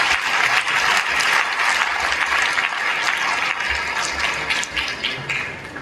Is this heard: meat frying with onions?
no